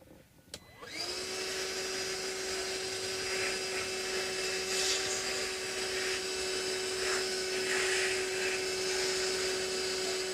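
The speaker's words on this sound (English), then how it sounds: "now I need to vacuum all the junk out, okay?" A vacuum cleaner switches on after a brief pause and runs with a steady, loud, high whine, sucking wood shavings and debris out of a Stratocaster guitar body during a wiring and pickup job.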